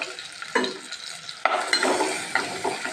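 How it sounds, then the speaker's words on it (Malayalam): Crushed onion, garlic and ginger drop into hot oil for a fish curry and sizzle steadily, the frying noise jumping louder at each addition and stir, with occasional utensil clinks and no speech. "ഈ ചതച്ചെടുത്ത ഉള്ളിയും വെളുത്തുള്ളിയും ഇഞ്ചിയും കൂടി നമുക്ക് ചൂടായ എണ്ണയിലേക്ക് ഇട്ട് കൊടുക്കാം."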